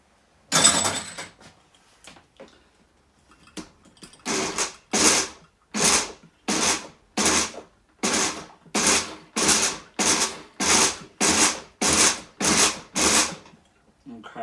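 Food processor pulsing blue cheese dressing in a kitchen, a train of about a dozen short, evenly spaced whirring bursts after a louder initial burst and a few faint taps, close and fairly loud with no talk.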